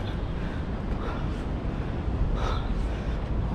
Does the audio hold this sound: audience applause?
no